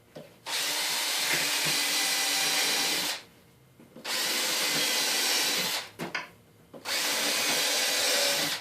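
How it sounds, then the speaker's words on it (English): A power drill pre-drills holes for exterior screws in plywood on the underside of a cheap bay window install, running in three long, steady bursts separated by brief pauses, close and loud with no talk. "And so what I'll do is I'll go through and just pre-drill it all."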